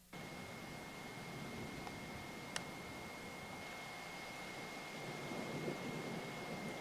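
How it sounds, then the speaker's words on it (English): A 4 a.m. thunderstorm with rain gives a steady, faint hiss of falling water and a low, even rumble, broken by one brief sharp crack, with no voices. "Flying saucers can wait because storms come at 4 a.m."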